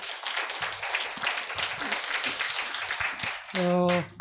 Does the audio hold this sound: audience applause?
yes